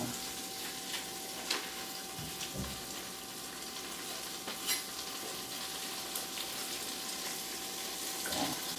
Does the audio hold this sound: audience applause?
no